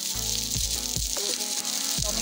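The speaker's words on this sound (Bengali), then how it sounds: "এবারে দিয়ে দেবো ভেজে রাখা আলুগুলো" Pre-fried potatoes go into a hot pan of oil for a Bengali aloo dum, giving a continuous close sizzle and frying crackle with a few soft stirring knocks.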